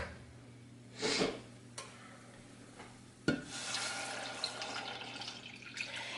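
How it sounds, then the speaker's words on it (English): Milk poured into a flour roux in a pan for a cauliflower gratin: a short splashing burst, a second sharp splash, then a steady hissing and bubbling of liquid in the hot pan, moderately close. "I'm going to add in my milk"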